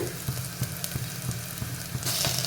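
Capsicum sizzling in a hot pan while being stirred for tomato spaghetti, a steady frying hiss with repeated scraping stir strokes, close and even, no voices.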